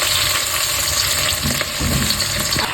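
Onion frying in hot oil with cumin, bay leaf and dried chili, giving a loud, steady, close sizzle with occasional stirring scrapes and no talking.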